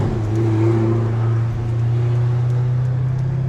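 A car drives past on a street, its steady engine drone loud and close for the whole stretch, with a low rumble and a brief swell in the middle, and nobody talking.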